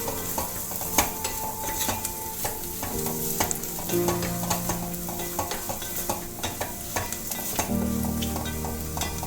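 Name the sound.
turmeric powder frying in pan for jackfruit mappas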